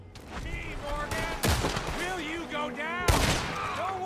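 Gunfire from the Red Dead Redemption video game after a Valentine bank robbery: two sharp, loud broadband shots stand out over a busy mix of music and game sound, with other brief bursts scattered through.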